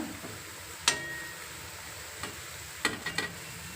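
Bajji fritters frying in hot oil as a rainy-evening snack, with a continuous low sizzle broken by a few sharp clinks and scrapes of a utensil against the pan.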